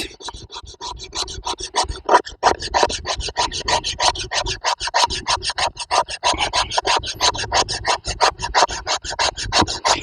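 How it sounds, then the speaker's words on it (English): A bushcraft knife's 90-degree spine scraping fine shavings from wood in quick, rhythmic strokes, close and continuous, with no talking. "Check that 90-degree spine when it comes to getting those finer shavings."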